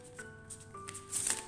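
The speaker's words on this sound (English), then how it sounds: "Let me show you guys how it shuffles." A Kali Oracle card deck being shuffled indoors, a close, crisp riffle of cards building to a louder flurry near the end, with faint tonal background hum and no talking.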